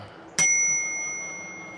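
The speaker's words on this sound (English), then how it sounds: "Let's hit the bell." A single bright bell ding from an Engwe E26 e-bike rings out close and loud, its metallic tone lingering and fading slowly afterward.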